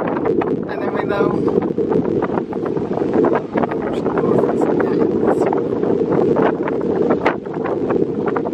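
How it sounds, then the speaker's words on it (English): Strong wind buffets the microphone on a beach at Waikoloa Village in Hawaii, a loud continuous roar with gusty rustling, while big waves break nearby and occasional voices sound faintly beneath. "because of how windy it is"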